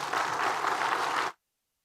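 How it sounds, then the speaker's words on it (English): A speaker-series audience at an art talk claps in a dense, steady burst that stops abruptly, leaving silence. "Clap it up one more time, everybody."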